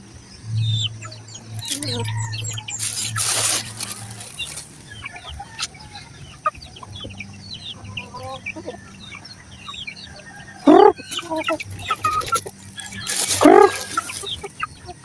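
Hens cluck and murmur on and off around a farmyard, with a couple of sharper squawks and small birds chirping in the background.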